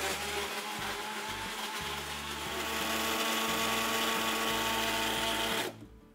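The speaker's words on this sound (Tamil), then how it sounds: "இதை இந்த 250 கிராம் பலாப்பழத்தை மிக்சியில் கொரை கொரை அரைச்சிருங்க" A Preethi mixer grinder whirs loud and close as it grinds jackfruit, the motor pulsing in short bursts and then running steady before cutting off abruptly near the end.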